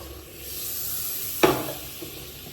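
Chopped onion, tomato and dried red chili hit hot oil in a pan, a low, faint simmer that bursts into a sudden loud sizzle midway and then slowly settles back to a softer crackle.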